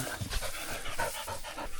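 A hot, overheated dog pants rapidly and close by in a swampy field, a steady run of quick breathy huffs with no voices.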